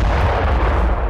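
Bombing and artillery explosions in Gaza, heard as a loud, dense, continuous low rumble of blasts filling the whole short stretch with no voices over it.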